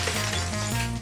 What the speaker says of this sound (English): This is special glass that the pros use that is safe to break.